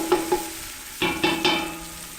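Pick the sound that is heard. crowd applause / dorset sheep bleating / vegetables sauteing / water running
vegetables sauteing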